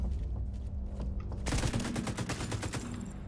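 Rapid gunfire in The Division 2, a quieter stretch of distant shots giving way after about a second and a half to dense, loud bursts of automatic fire that continue steadily to the end.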